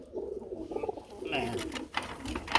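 Pigeons coo softly in a loft on a farm, low murmuring calls continuing through the clip with faint background voices.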